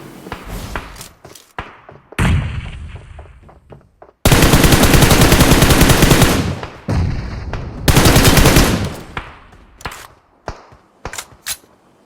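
Bursts of automatic gunfire and single shots ring out in a battle royale shooter game: scattered taps, then two long, loud sustained volleys separated by shorter rattles, with sharp isolated shots trailing at the end.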